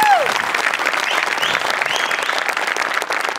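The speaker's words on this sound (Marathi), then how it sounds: "एकदा जोरदार टाळ्या माझ्यासाठी झाल्या पाहिजेत" Loud, sustained audience applause from a comedy stage show crowd, dense steady clapping filling the full stretch after a brief opening tone.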